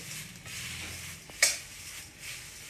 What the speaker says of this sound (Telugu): మునగాకు వేయిస్తున్నాను చూడండి.